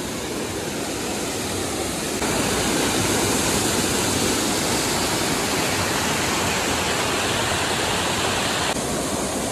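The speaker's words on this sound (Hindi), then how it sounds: "तो यहाँ पे कुछ है ऐसा वाटरफॉल" Waterfall beside a mountain road near Gangtok, a dense, loud, unbroken rush of falling water filling the whole clip close by, with a slight jump in intensity a couple of seconds in.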